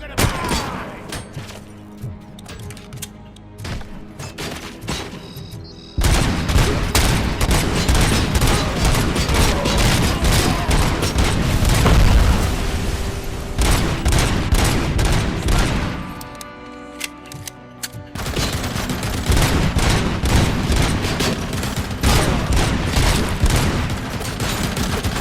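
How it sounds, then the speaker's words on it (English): Loud, dense explosions and rapid gunfire rage through a RoboCop: Rogue City firefight, a near-continuous barrage of blasts and thuds with a brief lull midway before the fusillade resumes. "Explosives are unpleasant to be at the receiving end of"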